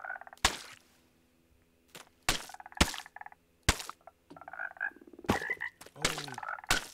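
Minecraft frogs croak repeatedly in buzzy, rippling calls, close and fairly loud, interrupted by hard percussive thuds of building blocks at irregular intervals.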